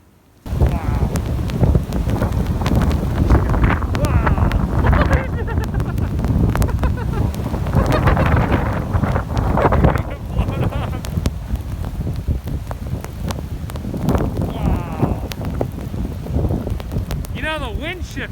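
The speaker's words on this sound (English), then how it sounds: "The wind shifted." Strong wind roars steadily during a snow storm outdoors near a house and trees, a dense, continuous gusting rush with microphone buffeting that swells and eases across the whole stretch.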